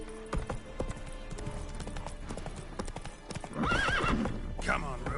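Roach the horse from The Witcher 3 gallops with steady clip-clop hoofbeats and lets out a clear whinny, up close, under a voice talking in the game.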